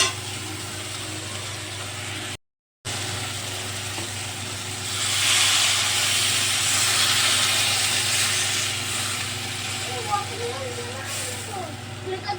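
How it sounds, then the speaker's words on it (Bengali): Water poured into a hot pan of curry that has been fried down with garlic sets off a steady, fairly loud hiss that swells midway and lingers. A person speaks over the sizzling. "এবার আমি দিয়ে দেবো জল।"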